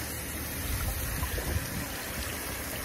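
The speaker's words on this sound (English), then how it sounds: "And then we just finish rinsing her off." Water runs steadily and close while a butchered chicken is rinsed off, a continuous rushing splash with no talk.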